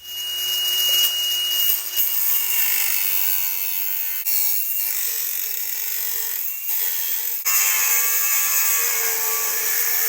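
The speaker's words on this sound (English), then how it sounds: "I'm going to basically cut right here with a cutoff disc" A cutoff disc grinds through a metal fender brace on a Honda CRX, producing a loud, continuous high-pitched whine with brief dips as the disc is repositioned.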